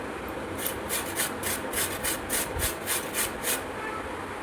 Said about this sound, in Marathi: बटाटे किसण्यासाठी मी अशा प्रकारची किसणी घेतली आहे